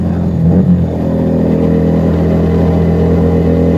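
A Keeway SCR 250V motorcycle fitted with a Mavionic aftermarket exhaust runs close by with a loud, steady, throbbing engine note and a brief lift in revs early on, with no talk.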